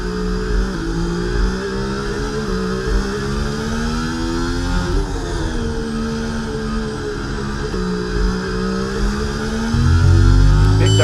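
A Formula 1 car engine in the racing game EA Sports F1 24 at the Spanish Grand Prix in Barcelona wails continuously at high revs, pitch rising and dipping through shifts, loud and close throughout.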